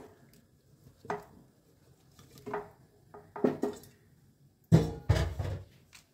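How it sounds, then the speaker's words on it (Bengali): Chopped tomatoes tipped into a hot kadai on a gas stove, heard as a few scattered clinks and knocks followed by a louder clattering tumble and rustle near the end, close and otherwise quiet. "এবার এই কড়ার মধ্যে আমি সমস্ত কাটা টমেটোগুলো দিয়ে দিচ্ছি।"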